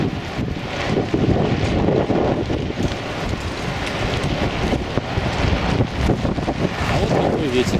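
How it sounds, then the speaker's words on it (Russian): Strong outdoor wind near a sports arena in Minsk, Belarus buffets the microphone with a constant, rough roar that swells and gusts throughout, with a voice faintly present. "А вот такой ветер."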